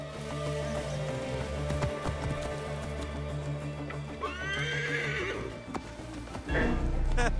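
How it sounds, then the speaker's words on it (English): A horse in the Egypt setting of the video game Assassin's Creed Origins on Xbox One X gives a loud whinny, with hoof clip-clops and a rumbling game score running beneath. "I should find a horse."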